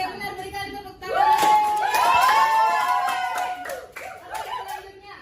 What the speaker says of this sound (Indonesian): Oke, benar, berikan tepuk tangan.